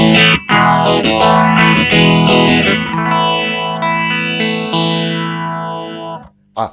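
An electric guitar plays through a BOSS PX-1 multi-effect on its Super Overdrive setting, heavily distorted and swirling, sustained chords sweeping up and down in a phaser-like motion, loud and close, then cutting off.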